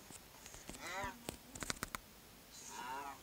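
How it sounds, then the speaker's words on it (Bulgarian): Cows mooing in the video game Minecraft: two drawn-out, slightly warbling moos, one near the start and one near the end, with a few sharp clicks between them at a moderate distance. "Тук хванах крави."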